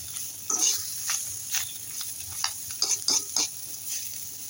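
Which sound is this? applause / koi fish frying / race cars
koi fish frying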